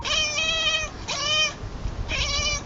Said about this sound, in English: if a cat sees a bird or some other kind of prey, you've likely noticed a chatter